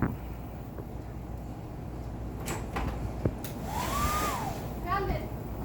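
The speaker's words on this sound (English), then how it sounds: "you keep scaring them off with the hairdryer" A hairdryer runs steadily in a room with barking dogs, its faint continuous whir underlying a few door-like knocks and a brief rising whine.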